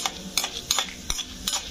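Cumin seeds and chana dal tempering in hot oil in a pan, a soft steady sizzle broken by several sharp stirring scrapes at an irregular rhythm, close and fairly quiet with no talking.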